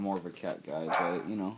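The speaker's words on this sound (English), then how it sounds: "Excuse the dog." A dog barks a few times in a room, brief yaps heard under someone talking steadily close by.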